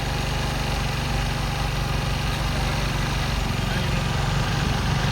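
Honda Activa scooter engine idling nearby, a steady low putter that runs unbroken and evenly from start to finish.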